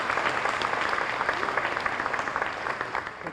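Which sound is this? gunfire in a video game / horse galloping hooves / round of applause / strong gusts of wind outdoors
round of applause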